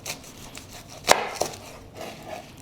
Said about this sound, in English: I'm going to slice off the end